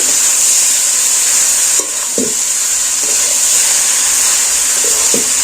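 Boiled, drained pasta stirred and mixed in a hot frying pan with egg masala, a steady broad sizzle with occasional scraping spatula strokes, close and alone.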